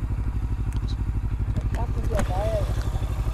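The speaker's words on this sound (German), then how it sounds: "Oh, ich werde die ganze Zeit von einem Bike verfolgt." A motorcycle engine putters with a rapid, even idle-like rhythm close by, continuous throughout, while a voice talks over it.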